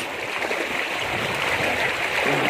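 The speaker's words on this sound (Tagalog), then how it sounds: "Ayan, malakas ang agos." A strong river current in the provincial countryside rushes steadily, a dense continuous wash of moving water heard up close with no voices.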